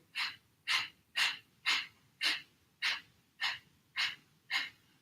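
A steady run of nine quick, forceful kapalabhati nasal exhalations pushed by the stomach muscles, in an even rhythm, close up, each a short sharp puff with brief pauses between.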